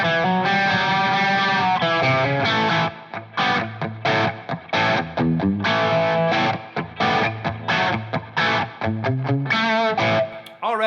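A heavily distorted electric guitar through a REVV G3 distortion pedal plays a choppy riff of chords and palm-muted stabs, loud and close, with a gritty, saturated tone and no talking.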